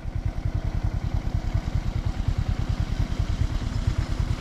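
A motorcycle engine idles close by with a steady, rapid thumping pulse that holds an even rhythm throughout, with no voices over it.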